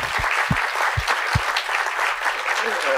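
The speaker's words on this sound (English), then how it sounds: "Round of applause." An audience at a panel session applauds in a steady, dense round of clapping that carries evenly throughout, with a few heavier low thumps near the start.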